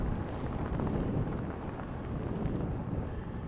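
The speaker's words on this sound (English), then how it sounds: "There's a lot of wind gusting around." Gusting wind buffets a microphone while cycling, a steady loud rumbling roar with no voices.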